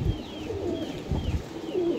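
Pigeons kept on a rooftop coo softly in low, rolling calls over a steady background hum, with faint chirps drifting above.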